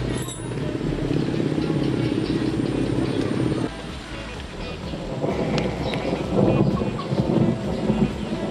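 Steady rain falls outdoors where a Raider 150 motorcycle is being worked on, with a low rolling rumble of thunder running under the hiss throughout and a brief dip in the middle.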